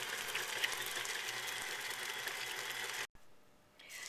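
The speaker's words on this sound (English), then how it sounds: "I just run my mixer on low and add in the egg and the extracts" Stand mixer on low speed mixing egg and extracts into sugar cookie dough hums with a steady rhythmic motor whir, then stops abruptly and leaves a quieter tail.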